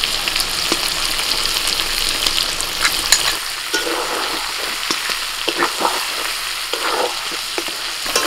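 Potatoes frying with cumin powder, coriander powder and ginger-garlic paste crackle loudly in a pan, a dense close sizzle broken by repeated scraping stirs that grow more distinct toward the end, with no voices.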